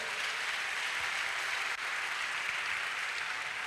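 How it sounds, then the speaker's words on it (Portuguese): Church congregation clapping together in steady, dense applause, fairly quiet and sustained, with no one talking over it. "Você pode aplaudir ao Senhor."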